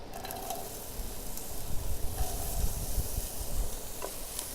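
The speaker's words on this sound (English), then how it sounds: "get it nice and smoking hot, and then I'm going to add my onions" Onions hit smoking hot oil in a pot and sizzle with a steady, dense crackling hiss that holds at an even level throughout, close and fairly loud, with no talking.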